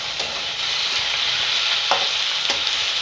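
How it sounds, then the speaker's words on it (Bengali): Boiled bottle gourd leaves with poppy seed paste stirred in a hot pan, a dense close sizzle with a few scraping strokes of the spatula, no voices. "ভালো করে নেড়ে নিচ্ছি।"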